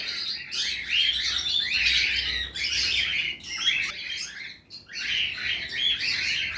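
Cockatiel breeder pair chirping continuously in close, loud bursts of high, scratchy tweets and squawks, with short pauses between the runs of calls.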